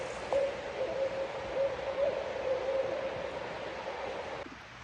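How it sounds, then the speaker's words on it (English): An owl hoots in a Shenandoah forest at night or dawn, a faint, steady tone repeating a few times over a low, constant background hiss of the woods. "An owl."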